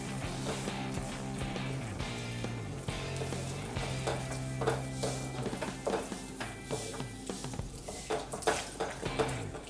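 Water goes into butter pav bhaji cooking in a hot pan, giving a steady sizzle with frequent light clinks and taps of stirring utensils against the pan. Soft tonal background music plays, and no one talks.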